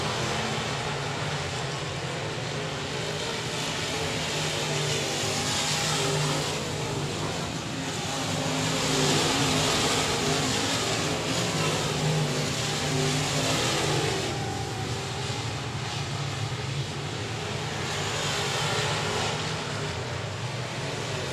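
Race cars circle a dirt track at Texarkana 67 Speedway, a steady loud roar of engines revving and droning past throughout.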